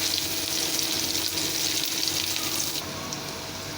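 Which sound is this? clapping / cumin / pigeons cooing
cumin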